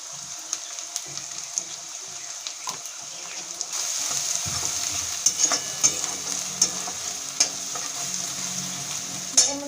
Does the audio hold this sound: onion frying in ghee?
yes